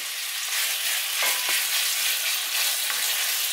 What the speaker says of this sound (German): Die braucht 4-5 Minuten, muss man sie anbraten.